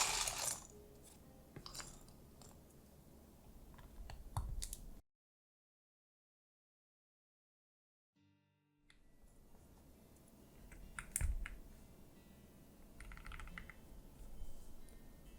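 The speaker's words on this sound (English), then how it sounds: "Let's go ahead and get these dumped and start getting these keycaps put on." Plastic keycaps poured out and pressed onto a Momoka Zoo65 mechanical keyboard, a close series of small clicks and clattering taps, with a silent gap midway before the tapping resumes.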